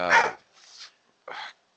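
Dog giving three short barks at close range, a loud first bark followed by a softer one and a final sharp bark after a brief pause.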